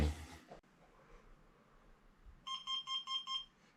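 A SkyRC TWneo tire warmer for 1/8 and 1/10 RC cars gives a run of five quick, even electronic beeps once it reaches temperature, clear and close over a faint background hum.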